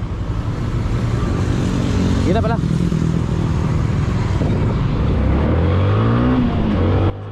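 Heavy road traffic with cars and motorcycles: a loud, continuous engine drone with rising revs and a motorcycle's sharp whine, close by, while people talk over it and the level drops abruptly at the end.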